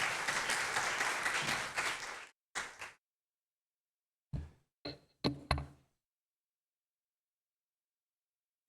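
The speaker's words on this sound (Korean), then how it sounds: "우리 담임 목사님 나오셔서 말씀 전해주실 때 우리 박수로 환영하면 좋겠습니다" Church congregation at a young adults' Sunday communion service clapping to welcome the pastor, a brief burst of applause that breaks off into a few scattered claps and taps, then silence.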